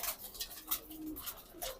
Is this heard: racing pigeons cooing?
yes